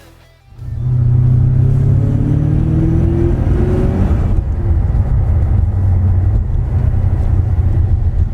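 A Short Chassis Volante car drives along a road, its engine rising into a loud, steady accelerating rumble that holds close and continuous after a brief quiet start.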